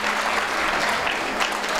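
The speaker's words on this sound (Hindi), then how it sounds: "Please give a big round of applause for yourself." Audience applause fills a school annual function hall, a steady, dense clapping from a large crowd that holds at full strength throughout, with no voices standing out above it.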